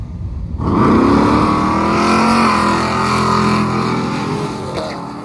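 A big block Dodge Dart drag car roars and revs hard as it launches and accelerates down the strip, the deep rumble sustaining for several seconds.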